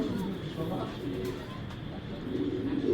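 A racing pigeon at a breeder's loft coos softly amid steady background noise and someone talking nearby.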